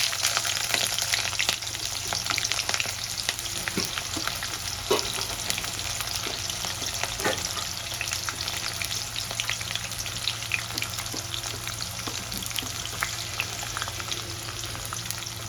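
Chopped onions frying in hot oil for a chicken curry, a steady broadband sizzle with small crackles and pops, stirred now and then, continuous and close with no voices.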